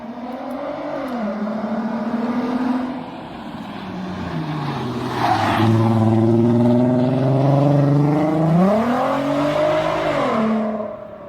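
A Volkswagen R32 Golf VR6 engine drones and revs nearby, its pitch rising and falling through several smooth sweeps, loud and continuous with no voices.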